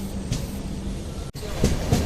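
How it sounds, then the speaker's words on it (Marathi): Train 15945 from Kalyan to Nashik Road rumbles steadily on the rails, a continuous low rolling noise heard from inside the coach with a few louder knocks and a brief dropout near the middle. "फायनली मित्रांनो आम्ही नाशिक रोडला पोचलेलो आहे दोनच मिनटात ट्रेन थांबते"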